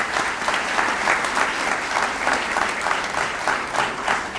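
An audience at a school district business breakfast gives business leaders and community business owners a round of applause, steady dense clapping that pulses slightly and stays loud throughout.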